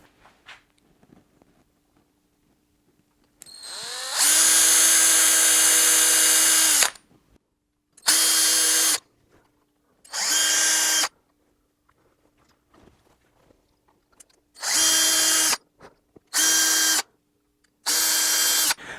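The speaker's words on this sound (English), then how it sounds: "when you do drill to that depth, that drill bit isn't coming out the other side of the headstock" A power drill bores tuner holes into the headstock of a six-string multi-scale guitar, whining in a long burst of about three seconds, then five shorter bursts separated by quiet pauses, loud and close.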